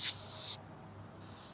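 A spray bottle of Meguiar's car cleaner fires a long, close hiss onto a car body, then after a pause two shorter sprays follow in quick succession.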